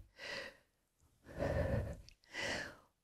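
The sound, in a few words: breathing in and out during morning exercises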